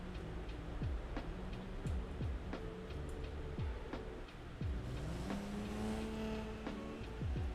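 A car driving in a video game, its engine droning steadily with repeated rising and falling revs as it shifts gears, continuous and fairly close without any talk.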